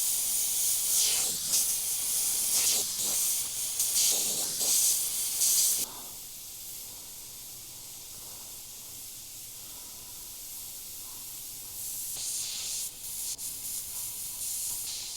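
Airbrush spraying transparent black paint while painting a fiery tiger, a steady close hiss of air and paint in several bursts, louder in the first six seconds and again near the end, with quieter hiss between and no talking.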